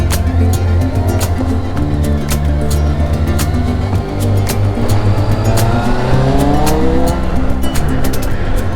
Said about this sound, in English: Right, let's hop back on the bike.